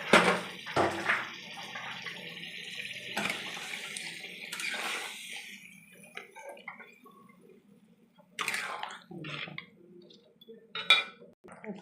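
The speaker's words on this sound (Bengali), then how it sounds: "এবার আমি জল দেবো।" Water poured into a pot of frying meat being cooked down for a thick, dry-style curry, with a burst of sizzle and splashing up front that fades to a low simmering hiss, with brief splashes returning later.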